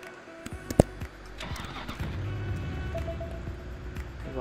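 A car in the Roblox video game starts with a sharp click, then a steady synthetic engine hum builds and carries on as it drives.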